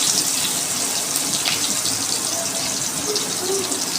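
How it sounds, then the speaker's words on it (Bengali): Water pours steadily into a pan for fish curry with eggplant, a continuous close, loud gushing splash with no break. "এখন আমি পরিমাণ মতো জল দিয়ে দিলাম।"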